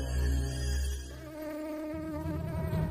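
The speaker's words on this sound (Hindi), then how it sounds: "एलिस मच्छरों के झुंड से चिपकी रही जो उसे वहां ले गए जहां खुशी और उदासी थी।" A swarm of cartoon mosquitoes gives off a dense, steady, high-pitched whining buzz that fills the whole stretch loudly and close, with no voices.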